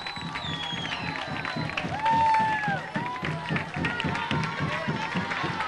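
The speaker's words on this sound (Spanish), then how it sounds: "Aplausos, saludos," A crowd greets an arriving passenger train at a station with clapping and cheering, mixed with voices and a brief whistle-like tone, fairly close and lively throughout.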